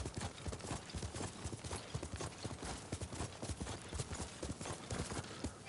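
Horse hooves clip-clopping at a steady trot in the video game Ghost of Tsushima, an even run of sharp close hoofbeats throughout, fairly quiet and without talk.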